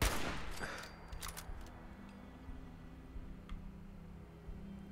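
Gunfire aimed at an enemy near a compound in Fallout 4 survival mode, with a few loud shots at the start followed by fainter scattered bursts over a low droning background.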